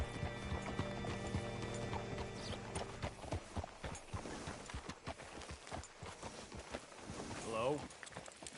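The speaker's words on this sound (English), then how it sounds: "Hitch your horse up here." Horse hooves clip-clop in Red Dead Redemption, a steady walking rhythm of sharp knocks that grows clearer after a tonal ambient opening, with a brief whinny-like call near the end.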